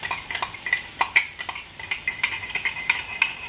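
Spoon stirring barbecue sauce into Coney sauce in a pot over medium heat, a steady run of quick scraping and clinking strokes close by, with no talk over it.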